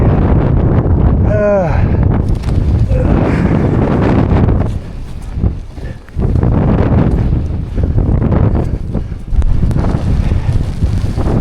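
Strong, cold wind buffets the microphone on a mountain summit in winter, a loud continuous roar with gusts rising and falling throughout and a brief dip midway.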